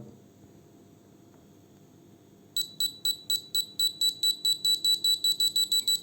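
A handheld pinpointer metal detector set to sound-only mode gives a rapid series of regular high-pitched electronic beeps, starting abruptly and repeating steadily close up over faint background hiss.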